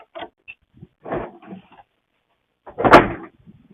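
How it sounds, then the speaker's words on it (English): Suncast resin shed doors are unlocked and swung open outdoors, giving a few light plastic clicks and scrapes followed by a louder hollow clunk. "Doors open up."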